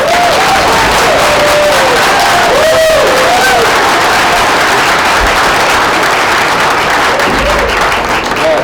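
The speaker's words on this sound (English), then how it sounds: "Huge round of applause for these students." A high school crowd gives very loud, continuous applause and cheering for student athletes signing letters of intent, with scattered shouts and voices rising over the dense clapping.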